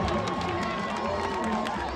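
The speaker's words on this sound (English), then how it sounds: "Keep the applause going for all of our Power Wheel competitors." Crowd cheering and clapping at a monster truck show after a Power Wheels race, a dense, steady roar of many voices throughout.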